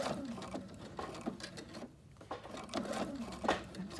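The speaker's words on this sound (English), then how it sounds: "I'm going to stitch where I finished, right over the top of where I started" A sewing machine runs in a fast, steady mechanical rattle while quilting, briefly slowing midway before continuing, close and fairly quiet.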